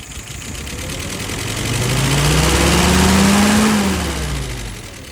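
A Harley engine fitted with a Carter WO 636SA carburetor runs close by, its drone climbing smoothly to a higher pitch and settling back down with no stumble.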